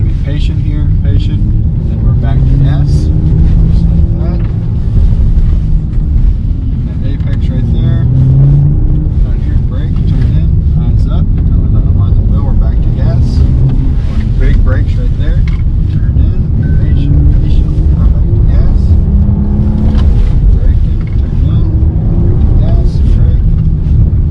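BMW car braking and cornering through a decreasing-radius corner on a racetrack, engine droning and shifting under steady wind rush, with someone talking over it throughout.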